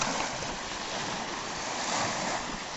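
Steady surf washes onto a sandy Great Lake shore, a continuous hissing wash of waves with some wind noise and no talk.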